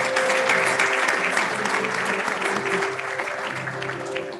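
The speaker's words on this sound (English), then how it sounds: "Let's give them a clap." An audience at an awards ceremony for jurists in Kenya applauds loudly and continuously, a dense, sustained wash of clapping with a faint tonal hum beneath it and no talk over it.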